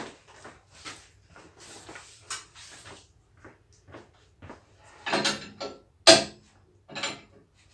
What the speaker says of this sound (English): Release the safety arm, easy as that.